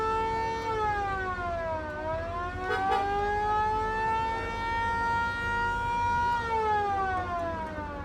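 A vintage car's siren at an autofest wails loud and steady, rising and falling in long slow sweeps, alone without talk.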